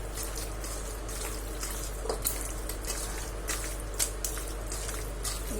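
A marinade worked together by hand, giving steady wet squishing and squelching over a constant low hum, with small irregular splatty accents throughout.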